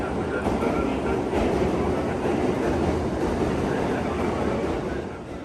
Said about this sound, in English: here's our full bullet train